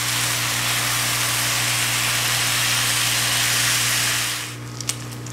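Bacon for beef and bacon chili sizzles and crisps in a pan as a dense, loud, steady hiss over a low hum, cutting off suddenly near the end and leaving a few faint clicks.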